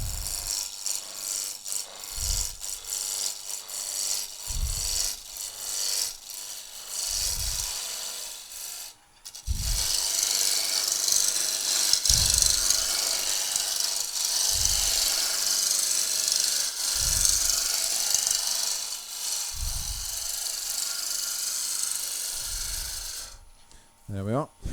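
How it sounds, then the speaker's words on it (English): A roughing gouge back-cuts a wood spindle turning on a lathe, giving a steady, loud rasping scrape that runs continuously for most of the span, with a lower rhythmic thump from the rotating work underneath. "So when I want to take that area away, I'm just going to turn the roughing gouge over"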